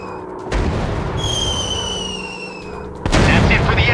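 Bombs fall and explode in a WW2 warplane dogfight mobile game: a heavy boom rumbles, a descending whistle slides down over it, then a second loud blast erupts near the end.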